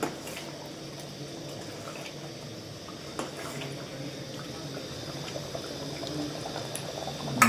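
Chicken curry simmering in a pot, a soft continuous bubbling with faint occasional clicks and small pops, close and low in level, with no talk.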